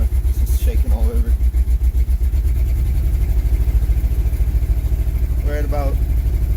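A V8 car engine idles roughly after a cold start, with an uneven, loping rhythm that is loud and close. Someone talks over it in a couple of short bursts.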